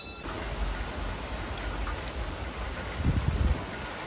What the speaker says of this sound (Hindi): तो गाइस अभी तेज़ बारिश आ रही है ना